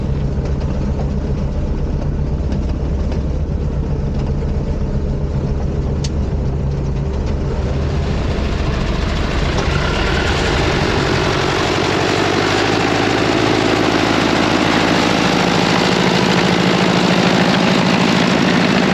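A DT-75 crawler swamp tractor engine runs continuously at close range, a steady low diesel drone that grows louder and fuller about halfway through as it revs up, with no talking.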